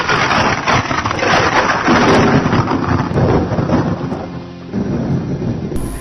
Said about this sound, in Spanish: Y en ese momento comenzó a llover con furia.